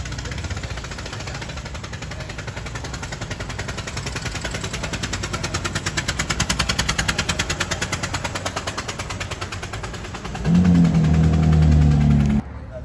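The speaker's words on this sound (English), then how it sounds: "You could hear the exhaust. His manifold is no longer attached." A small pickup truck engine with a detached exhaust manifold idles with a rapid, loud ticking exhaust rattle, a leaky puffing rhythm that swells and then drops into a deeper drone.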